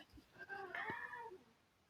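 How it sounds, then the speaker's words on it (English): A single drawn-out cat meow, close and fairly quiet, with a brief faint sound just before it. "It's here comes my cat. It's a well-timed meow."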